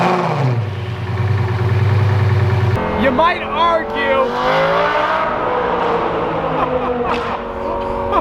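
A Lamborghini Gallardo fires up from cold with a sudden loud roar that settles into a deep, heavy idle for a couple of seconds, then quiets under someone speaking close by.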